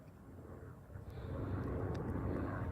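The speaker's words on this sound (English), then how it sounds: "even if you hear in the background some kind of airplane noise," A camera drone filming a mountain trail race hums overhead with a low, airplane-like drone that grows louder partway through and then holds steady.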